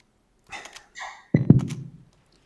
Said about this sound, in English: That sounds a little to me like there's a mousetrap going off somewhere.